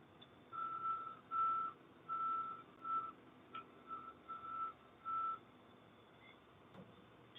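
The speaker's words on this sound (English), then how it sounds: "Just waiting for the bus to pull out." A bus pulling out sounds a series of about eight regular reversing beeps, moderately distant, over a low steady engine and traffic rumble.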